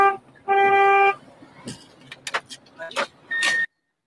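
A car horn inside a ride-hailing car honks in two clear blasts, a long one and a short one, close and loud, with hurried voices and movement between them.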